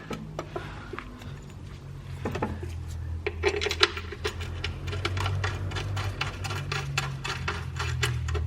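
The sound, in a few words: running bolts with lock washers into a frame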